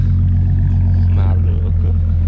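Ford Mustang exhaust idling with a steady, loud low rumble, close up and continuous, with a brief voice over it.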